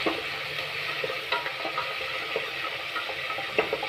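Tomatoes and vegetables sauté in a pan for bisibele bath, a continuous frying hiss punctuated by soft, irregular stirring knocks.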